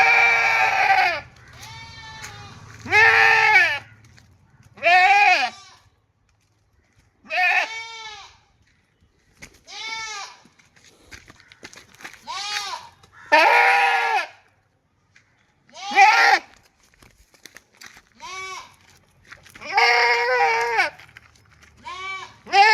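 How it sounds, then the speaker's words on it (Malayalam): A crossbreed dairy goat, separated from her two kids, bleats loudly and repeatedly, giving about a dozen long wavering calls with short quiet gaps between them and a little faint background noise. "കുട്ടികളെ പിരിച്ച ഒരു ക്രോസ് ഫീഡ് പാലാട്"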